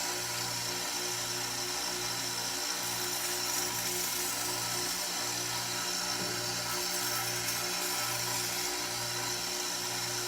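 Power tool buffing a sharpened knife edge, a steady, fairly quiet motor hum with a soft, continuous abrasive hiss running unbroken for the whole stretch, with no talking.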